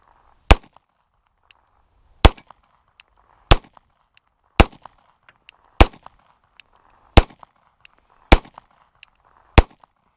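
Sig P229 Elite pistol fires in double action, about eight sharp, loud shots spaced a second or so apart outdoors, each followed by faint pings from steel targets.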